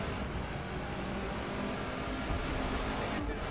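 A rally car in the video game The Crew 2 heading down a ski jump, with a steady engine roar and road noise that stays loud and even throughout.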